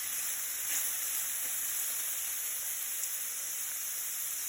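Chopped zucchini and capsicum fry in a pan, giving a steady, even sizzle and hiss that carries on without a break and with no voices.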